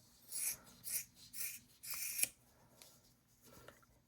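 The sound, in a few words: cutting with large scissors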